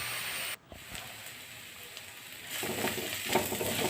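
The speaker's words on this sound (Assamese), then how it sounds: "এইখিনি ভালকৈ ভাজি থাকিব লাগিব যেতিয়ালৈকে গোল্ডেন ব্ৰাউন কালাৰ হৈ নাযায়" Continuous soft sizzle of ginger garlic paste frying in oil, growing a little louder partway through, with a faint scrape of stirring.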